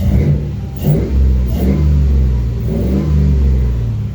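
A car engine runs steadily at about 1100 to 1200 RPM with oil pressure up and coolant warming toward 78 degrees, a loud close rumble with slight swells in pitch and no talking.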